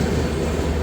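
The Seshadri Express arriving at a station, a loud, continuous low rumble of a train close by with no voices.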